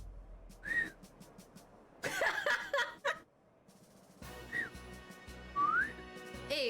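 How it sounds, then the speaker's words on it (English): People whistling in a cutscene of the video game Trails in the Sky FC: several short, sharp whistled notes and rising slide-whistles burst out over crowd noise with coughs and laughter, loud and close. "it just goes to show how often people whistle in this game"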